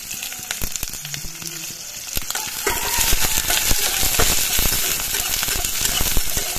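Sliced onion, garlic and four green chillies hit hot oil with five-spice seeds and whole cumin for a fish curry. The sizzle swells louder partway through and stays steady and close, with occasional utensil clinks.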